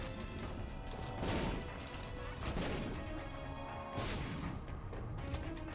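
Explosions from combined butt, sad and golden bombs in The Binding of Isaac: Afterbirth, heavy crashing blasts that run together in a dense, loud, continuous barrage of booms.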